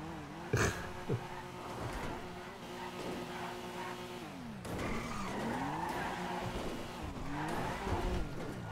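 A car in the GTA RP roleplay game drives over mountain terrain, with the engine revving and whining steadily. Tires squeal and a few bumps and knocks come through, mid-distance and moderately loud, with no speech.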